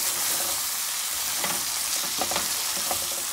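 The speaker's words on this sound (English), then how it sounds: "We're gonna mix everything in." Chickpea curry sizzles steadily in a pan while a spoon stirs it, with soft scraping strokes recurring through the frying hiss and no talking.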